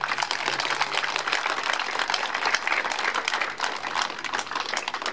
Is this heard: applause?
yes